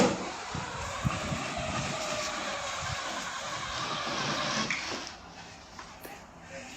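An electric children's ride-on bike imported from China, its motor giving a steady whirring drone that stays even for several seconds and then eases slightly, with no talk over it.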